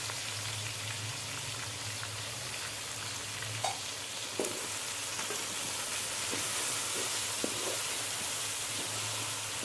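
Garlic paste with green chilli and ginger paste fries in a pot for biryani, a soft continuous sizzle with a low hum and a few light clinks of stirring, fairly quiet and without talk.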